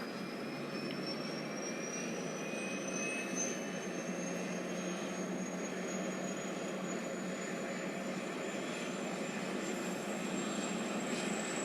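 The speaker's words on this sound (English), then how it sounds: "The engine's starting up." A C-17 military transport jet at Edinburgh Airport starting its engines: a steady, fairly distant whine with a slowly rising high tone over a broad rumbling hiss, continuous and fairly quiet, with no voices.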